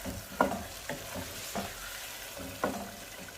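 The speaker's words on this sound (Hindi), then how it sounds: "आंच को तेज ही रखना है और इसको भूनना है अभी" Chicken in masala is sizzling over a high flame, with a steady fry under a few sharp scraping stirs against the pan. No one speaks.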